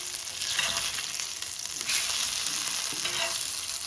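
Whole bangda mackerel stuffed with Goan recheado masala frying in a pan, a steady broadband sizzle with crackling bursts throughout, close and loud with no voices.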